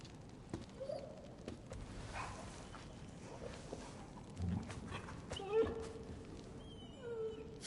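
Torgal, the dog in Final Fantasy XVI, gives a few brief, soft barks and whines spread over quiet game ambience, with voices talking at points.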